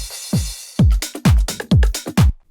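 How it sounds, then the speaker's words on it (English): A crash cymbal is layered over a filtered kick fill in a deep/minimal house drop. Punchy low kick thumps repeat in a quickening run with a bright wash on top. The hits are loud and tight, and no one speaks. "And a crash layered on top of that, which sounds like this."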